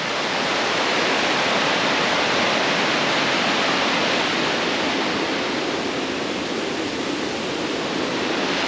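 Balea waterfall in the Transfagarasan mountains of Romania rushes in a steady, loud, broadband roar that fills the whole span with no pauses and no voices.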